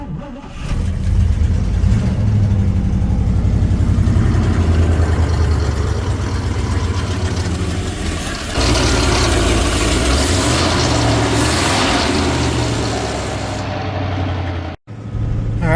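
A 1956 Pontiac Star Chief four-door hardtop with an electric fuel pump cranks, catches and settles into a loud, steady idle with occasional revs, close by and with no talk, until it cuts off abruptly near the end.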